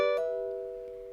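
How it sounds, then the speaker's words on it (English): A single fingerstyle ukulele chord rings out with a quick hammer-on just after the strum, sustaining cleanly and fading over about a second. "This is your hammer-on. With the chord, it sounds like this."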